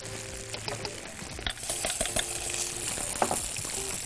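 Chicken nuggets fry in hot oil with a steady close crackle and sizzle. Some scraping clinks from a small strainer come through, and the bubbling thickens after the first second and a half.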